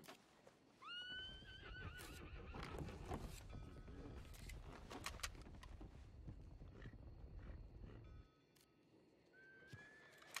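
Several horses neigh and whinny in a video game, rising calls repeated over steady hoofbeats and busy background noise, with one more whinny near the end after the clatter drops away.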